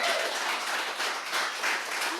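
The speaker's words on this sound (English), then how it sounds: "Give Pedro a nice round of applause" A studio audience gives a round of applause on a recovery talk show, a dense, steady wash of clapping filling the short moment.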